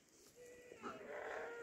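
Goats in a herd in a forest give drawn-out bleats, one rising clearly near the end over a soft, faint outdoor background.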